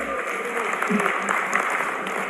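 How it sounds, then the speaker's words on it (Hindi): Audience applause at a political rally in India, as a chief minister announces new municipal councils; steady, moderately loud clapping from a crowd that continues for a couple of seconds without speech over it. "ताली कम बज रही"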